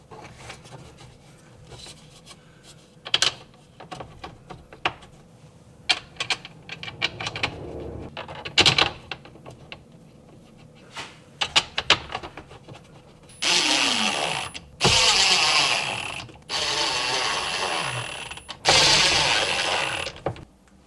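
Four screws are driven into the ring and guard of a 12-inch Rockford Fosgate Stage 5 subwoofer. Scattered clicks and handling knocks come first, then several longer whirring bursts of driving, close and fairly loud.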